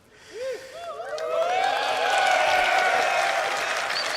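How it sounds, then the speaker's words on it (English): Audience applause at CitizenCon, the Star Citizen convention, after a presentation on crafting and base building; clapping rises from a few hands to a full, sustained ovation from a large crowd. "The most applaud anyone's gotten."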